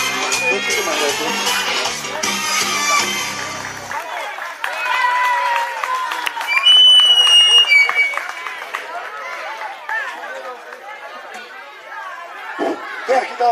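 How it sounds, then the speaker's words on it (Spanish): Audience applause and chatter for a performer named Alex, clapping loud at first, then thinning into crowd babble and scattered claps, with speech and some music-like tones mixed in. "Un fuerte aplauso para Alex, más fuerte que no se escucha."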